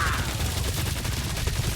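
Rapid gunfire in Guardians of the Galaxy rattles in a quick, dense burst of shots at moderate volume, with no one talking over it.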